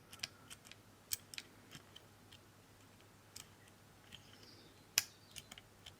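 Light, irregular clicks of keys being typed on a homemade QWERTY keyboard hexpansion for a Tildagon badge, quiet and close, with no talking.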